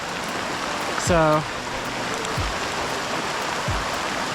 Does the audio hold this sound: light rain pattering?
yes